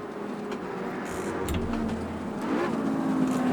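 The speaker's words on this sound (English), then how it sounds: "The rumbling on the downshifts. Hearing the turbo wind up." An Audi Quattro rally car runs on the Nürburgring, its engine giving a steady, muffled rumble from inside the cabin while a faint turbo whine rises and falls over it.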